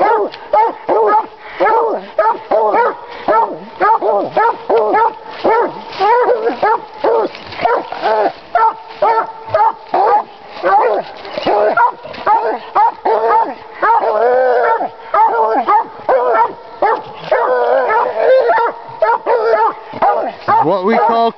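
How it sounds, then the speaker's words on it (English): Coon dogs treeing an animal, barking, yipping and howling in rapid, loud, continuous bursts close by, with overlapping voices from several dogs. "What we call coon dog."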